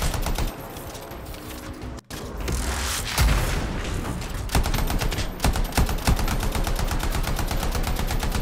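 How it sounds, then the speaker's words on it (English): A canister trap detonates in the video game Anthem: a loud, close explosive burst rises out of dense combat noise, then rapid, steady gunfire rattles on without a break and no voices are heard. "It'll be a contained explosion."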